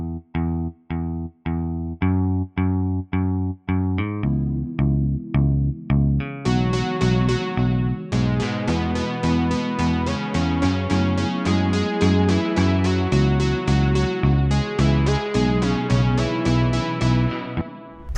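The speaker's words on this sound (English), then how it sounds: "there's also bass parts and stuff in here that I'm just using the built-in bass" A built-in synth bass line in Soundtrap plays punchy repeated notes, first sparse and staccato, then joined by brighter layered synth tones in a steady pop rhythm.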